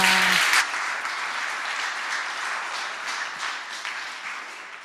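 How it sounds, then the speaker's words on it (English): Audience applause at a design school panel event honoring Alessandra, a steady wash of many hands clapping, loudest at the start and gradually thinning over five seconds. "A round of applause for Alessandra."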